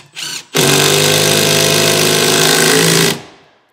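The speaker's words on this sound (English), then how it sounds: "So I'll get that started in my pilot hole." Power drill driving a screw into a pilot hole in wooden stair tread, a brief rev then a continuous loud whirring buzz for about two and a half seconds before stopping.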